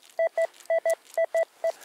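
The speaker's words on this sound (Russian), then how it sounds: "Это сигнал екатерининского рубля." A metal detector sounds over a Catherine-era ruble coin, giving seven short, clean electronic beeps in quick pairs, loud and alone against near silence.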